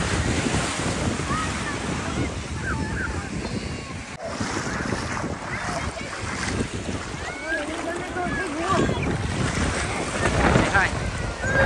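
Ocean waves roll and break continuously on a beach, with heavy wind buffeting the microphone over a constant surf wash.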